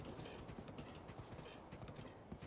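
Horse hooves clip-clop at a steady gallop in Zelda: Breath of the Wild, a quick continuous patter of game footfalls at moderate level with no talk over it.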